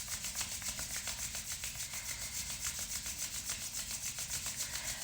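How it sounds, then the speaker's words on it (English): Palms rub together vigorously in a steady, continuous friction hiss with quick repeated strokes, close and alone, during a morning lockdown meditation. "bringing your palms together and rubbing your hands together, vigorously generating some warmth through the friction."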